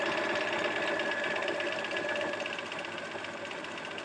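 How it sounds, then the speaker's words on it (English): A sewing machine stitches over a tear, giving a steady, fast mechanical whirr with rapid needle clatter, close and continuous with no talking. "I'm going to back stitch a couple stitches at the end just to secure it."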